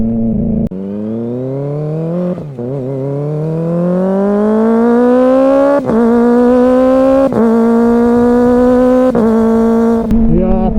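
Motorcycle fitted with a large bike's aftermarket silencer, engine rising in pitch as it accelerates through several gears with brief shift dips, loud and close, no talk.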